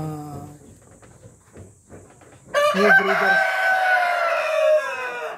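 After a few soft clucks, a Rhode Island rooster, the eighth in a line of farm breeders, lets out one loud, drawn-out crow up close, lasting about three seconds.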